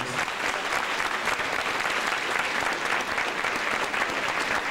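Steady, loud applause from a large crowd, a dense continuous patter of clapping that holds throughout.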